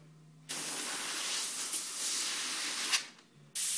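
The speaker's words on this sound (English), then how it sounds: "Spray a little out here aside on the paper." An airbrush sprays tangerine orange candy paint onto paper in a steady, close hiss that runs for about three seconds, cutting off briefly near the end before resuming.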